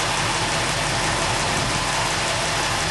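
A 1972 Ford F-100 with a 360 V8, freshly started after a month of sitting, idles as a loud, dense, unbroken engine rumble that stays level throughout with no voices.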